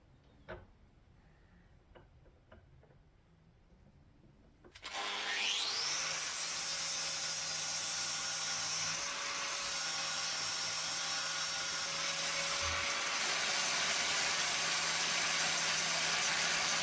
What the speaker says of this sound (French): La meuleuse va très très bien faire le boulot